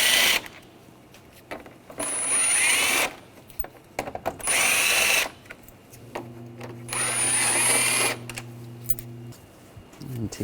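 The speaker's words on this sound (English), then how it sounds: "We're going to take these screws out, use a T30 socket." A power tool fitted with a T30 socket whirs in three sustained bursts of a few seconds each while backing screws out on a BMW 328i, with clicks and handling noise between the runs.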